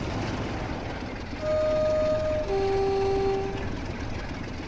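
Train engine in Train Sim World 5 on the East Coast Main Line powering up after the brakes release, with a steady rumble joined by sustained electric tones that step up in pitch and hold for a few seconds, and no talking.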